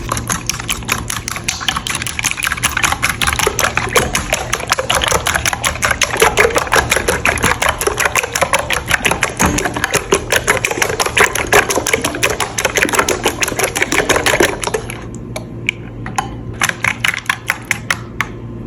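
Eggs, sugar and milk whipped with an electric beater give a steady, loud, close mechanical whir with rapid rattling for about fifteen seconds, then the motor stops and a few scattered clicks follow.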